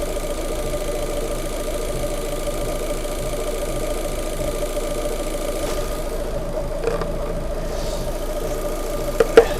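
A Fiat Panda 100HP engine runs at a smooth, steady idle close by, an even low hum with faint ticking and a couple of small knocks near the end.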